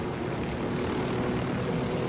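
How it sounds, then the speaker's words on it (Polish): A helicopter flies in Ghost Recon Wildlands, giving a constant, dense rotor and engine drone that holds steady and close throughout with no break. "Jak tymi helikopterami fajnie się lata"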